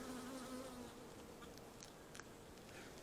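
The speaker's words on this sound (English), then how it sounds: "That is a wasp." A wasp buzzing near a beehive, a steady close drone that hums continuously and fades slightly, with faint clicks and rustling from the hive in the background.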